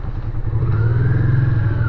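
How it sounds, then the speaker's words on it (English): A Honda Ascot motorcycle engine runs close by in a garage, a steady, throbbing, low-pitched thrum with no voices over it. "it just sounds so good riding around a garage"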